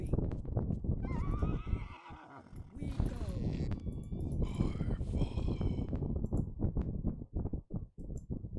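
Horses in the strategy game Battle Realms whinny in several shrill, wavering neighs over busy battle noise and hoofbeats, with someone talking throughout.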